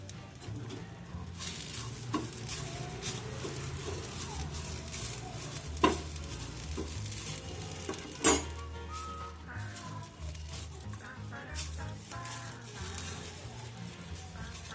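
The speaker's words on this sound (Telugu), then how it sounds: "ఉట్టిగా కరివేపాకు ఇట్లా మామూలుగా వాటర్ పోయిన దాకా కొంచెం ఫ్రై చేసుకుంటే చాలు" Curry leaves dry-fry in a pan with no oil, giving a steady low sizzle and crackle with stirring scrapes and a few sharp clinks throughout.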